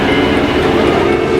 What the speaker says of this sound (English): once this tram comes to a full complete stop